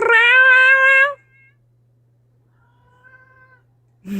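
A cat lets out one loud, drawn-out meow up close, followed by a faint short meow after a pause, with quiet room tone between.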